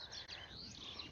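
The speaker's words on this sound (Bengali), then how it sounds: "এখানে পাখির কিচিরমিচির আওয়াজ" Faint, high chirps and tweets from small birds in a sunflower garden at the Hathazari horticulture center, scattered through a quiet outdoor background, with no talking.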